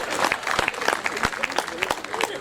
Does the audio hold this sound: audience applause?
yes